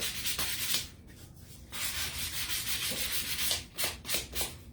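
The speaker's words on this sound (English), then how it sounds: "I'm going to take my sanding block and kind of rough this up too" A sanding block rubbed back and forth over a wooden paint stick, repeated raspy scrubbing strokes with short pauses between bursts, close and clear.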